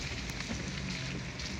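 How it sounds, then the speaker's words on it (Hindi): Steady dense hiss of rain pouring down, an even wash of noise without pauses, no talking. "बारिश धड़ाधड़ हो रही है जी"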